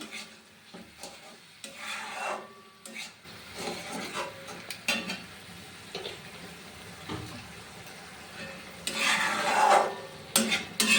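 Spice masala with red chilli powder is stirred and scraped in oil in a pan for an omelette curry, giving irregular rubbing and scraping strokes over a soft sizzle, close by, louder toward the end.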